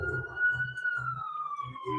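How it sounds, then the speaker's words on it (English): An ambulance siren wails outside the house in one long, slowly falling tone, steady and fairly prominent, while a low voice murmurs in bursts beneath it. "Some ambulance outside my house."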